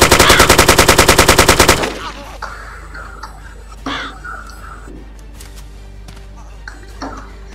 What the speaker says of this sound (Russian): Еле слышно выстрелы, но слышно.